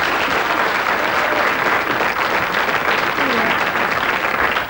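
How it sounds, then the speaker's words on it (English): Studio audience on a TV quiz show applauds loudly and steadily, a dense wash of clapping that fills the whole stretch without letting up. "Give her a round of applause."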